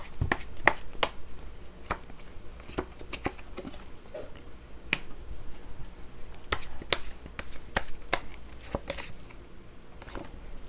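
Tarot cards are shuffled and drawn, giving a steady run of sharp, close clicks and snaps at a fairly regular pace with soft rustling between them.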